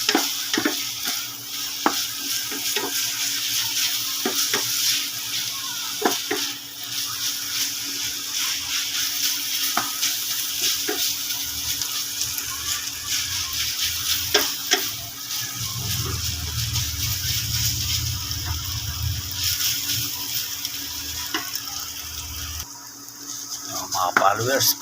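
Chicken pastil sizzling in a pan while being stirred, steady frying hiss with repeated scraping and clacking utensil strokes throughout, a voice occasionally speaking over it.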